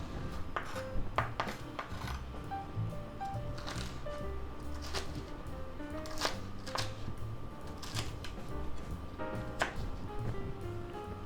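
Hot peppers and onions being cut into strips on a board, with irregular close knife taps and clatter against a steady background of faint kitchen noise.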